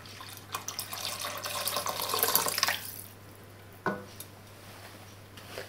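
Water pours steadily into a pot of seafood bisque already holding cream for a couple of seconds, then stops, followed by a single light clink of the pot.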